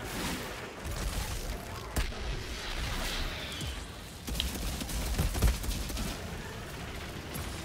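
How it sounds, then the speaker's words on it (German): A video game explosion in Outriders bursts close by among a constant rumble and crackle of combat, with several sharp blasts punctuating the steady din. "Ich habe was neben mir explodiert."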